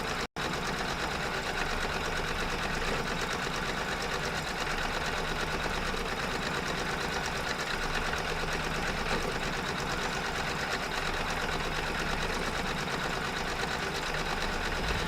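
An embroidery machine stitches a dense design with a steady, loud, continuous mechanical whir and rapid needle chatter that runs unbroken through the whole stretch. No voices are heard.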